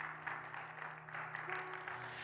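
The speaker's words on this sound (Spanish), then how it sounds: "Denle un fuerte aplauso al Señor, por favor." A congregation at a church Bible class applauds, producing a soft, steady wash of distant clapping with a faint low hum beneath it.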